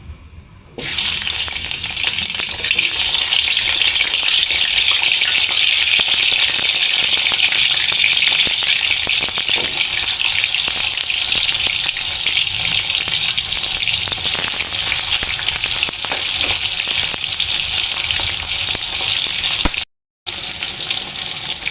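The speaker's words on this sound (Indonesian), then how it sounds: "Kita goreng dulu tomat, bawang merah sama cabai merah." Tomatoes, shallots and red chilies fry in hot oil with a loud, steady close-up sizzle that starts abruptly and continues nearly unbroken, with a brief gap near the end.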